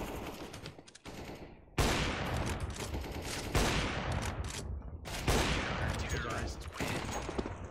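Rapid, loud bursts of rifle fire in a Counter-Strike match at high ranks, several sustained volleys with brief pauses between them, close and dominant over faint player commentary.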